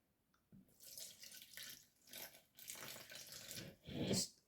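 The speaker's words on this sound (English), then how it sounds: "Then we're going to add our milk in." Milk poured into a bowl of homemade waffle batter, a steady liquid pouring and splashing in a few close bursts with short pauses, ending in a louder splash.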